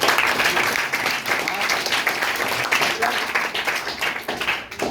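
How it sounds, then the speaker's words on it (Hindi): Audience applause at a talk in a Hazaribagh centre, a dense, continuous burst of many hands clapping, loud and close throughout with no break. "एक बार इन लोगों के लिए जोरदार ताली होनी चाहिए।"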